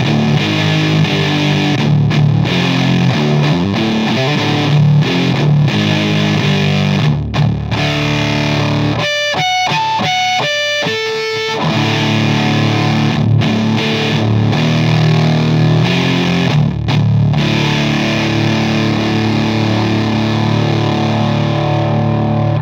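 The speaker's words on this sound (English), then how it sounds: "now let's move over to the distortion pedal. I want to see what kind of gain we can get out of this" A heavily distorted electric guitar played through a distortion pedal plays chords and riffs with thick gain, briefly dropping to a few cleaner single notes midway before crunching again.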